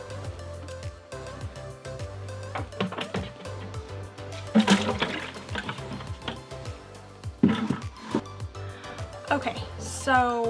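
Water from an RV kitchen sink is dumped into a bucket, producing irregular splashes, glugs and sloshing bursts of varying loudness across several seconds, recorded up close.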